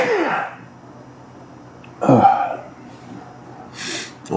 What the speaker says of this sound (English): And I got a sneeze coming on.